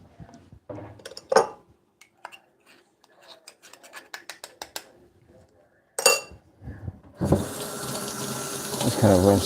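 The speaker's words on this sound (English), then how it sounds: "Just kind of rinse it out a bit." Clinking metal and scattered handling noises come from Flair espresso maker parts, then a tap gushes in a steady, loud stream as they are rinsed at a sink.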